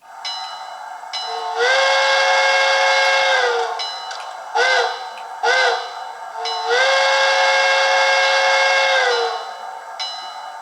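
An HO scale Athearn Genesis CN SD70i diesel locomotive's Tsunami 2 sound decoder blows its horn in a long-long-short-long pattern, the chords loud and close, with engine rumble between blasts.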